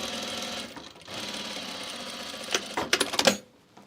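Sewing machine running a topstitched seam with a topstitching foot, a steady mechanical hum broken by a brief pause, then a cluster of quick close stitching bursts before it stops.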